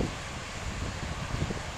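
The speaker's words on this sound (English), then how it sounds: "very windy here at the point." Strong wind at the point at Otway Bay in Chile's Patagonian steppe, a continuous broadband roar with low rumbling gusts buffeting the microphone and no talking.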